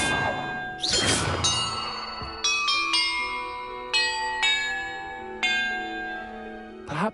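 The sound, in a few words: ringing bells, from video game Hogwarts Legacy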